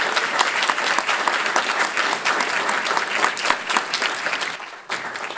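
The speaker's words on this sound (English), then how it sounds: "Give our presidents a round of applause." An audience at the Louisiana Legislature gives HBCU presidents a round of applause, loud, dense clapping filling the room at close range, briefly dipping near the end before picking back up.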